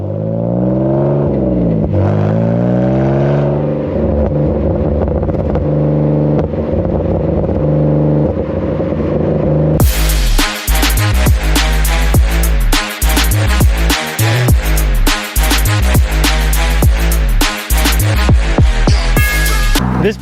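The 2.5-liter inline-six of a BMW Z3 roadster hums and rises in pitch as it pulls through the gears for about ten seconds, then loud rhythmic music takes over and drowns it out.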